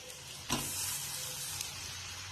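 Onions, curry leaves and tomato sauté in a pan for a koorka masala curry, giving a steady close sizzle that jumps up with a burst about halfway through and then holds a continuous hiss with no talking.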